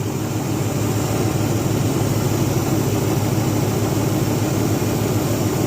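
A 1967 Chevelle engine idles at operating temperature with a steady, even rumble. It holds at a constant loudness with no voices over it.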